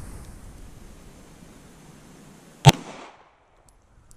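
One sharp gunshot cracks out close and loud during two-handed shooting practice, followed by a short fading echo against a quiet hiss.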